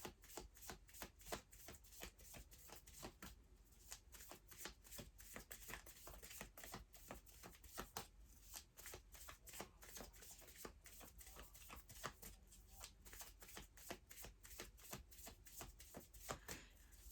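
Tarot cards being shuffled continuously, a quick rhythm of soft riffling and slapping, close by and quiet, no voices.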